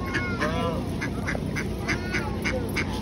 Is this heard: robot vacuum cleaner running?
no